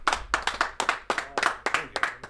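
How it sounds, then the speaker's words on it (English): A small group claps on cue during a radio show chicken rant: about eight distinct, evenly spaced hand claps in a steady rhythm, close and fairly loud, with no talking over them. "There, now you can clap."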